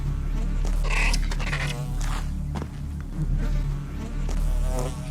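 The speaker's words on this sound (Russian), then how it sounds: "Африканские медоносные пчелы кусают очень больно." African honey bees swarm and buzz close by, a dense, wavering drone of many insects with sharp individual fly-bys rising and falling over a low rumble.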